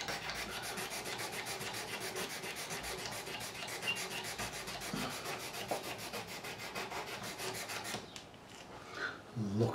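Steady close rasping and scraping across the wood of a Tanglewood TW115 acoustic guitar to remove grimy residue, a continuous rhythmic rubbing that stops near the end before a few light knocks.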